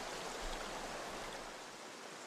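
River water trickles and rushes through a hand-built stone eel weir with a wooden rack, a faint, steady, close babble with no voices.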